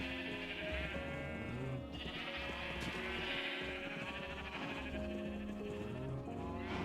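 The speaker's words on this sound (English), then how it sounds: "Big butt sheeps for sure." Several blocky in-game sheep from Minecraft bleat in short, repeated calls over a busy, continuous game soundscape, fairly close and steady throughout.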